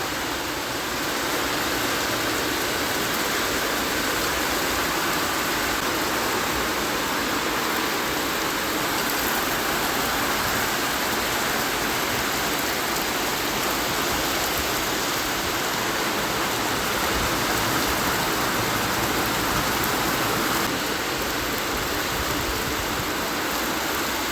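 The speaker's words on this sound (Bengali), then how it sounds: "বাইরেটায় দেখো কি জোরে বৃষ্টি নেমেছে" Heavy rain pours outside on a cloudy evening, a dense, steady roar of water that stays loud and unbroken throughout with no voices.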